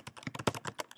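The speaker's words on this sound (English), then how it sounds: "I'm going to type in multimedia47.com" Quick, uneven keystrokes on a computer keyboard as a web address is typed, a burst of about a dozen close, crisp clicks with no voice.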